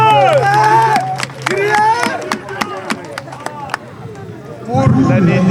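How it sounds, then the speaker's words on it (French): A crowd at a May Day celebration claps and cheers, bursts of applause mixed with loud voices in the open air, a speaker's amplified voice over it, swelling again strongly at the end. "Applaudissez!"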